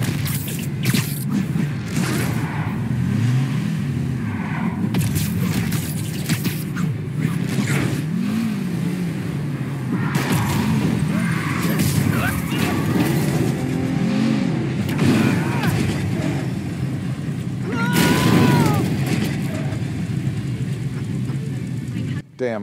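A car in the Spider-Man PS4 video game roars through a chase, engine revving and surging continuously with rumbling road noise, while voices talk over it.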